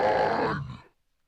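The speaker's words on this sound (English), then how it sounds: "Suddenly we have a group of pigs." A single short, rough pig grunt, close and mid-loud, lasts under a second and cuts off into silence; it is a sound effect layered into a heavy metal mix.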